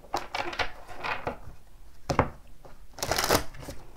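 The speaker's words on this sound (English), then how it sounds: "So without further ado, let's shuffle." Tarot cards being shuffled by hand, a series of quick riffling and slapping bursts with short pauses between, close and fairly quiet with no talk.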